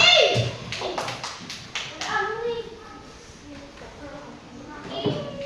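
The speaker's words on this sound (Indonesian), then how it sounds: "Ya, tepuk tangan lagi Didi ya." Children in a classroom give a short round of applause, with several loose claps and taps near the start, then fading into chatter and background voices.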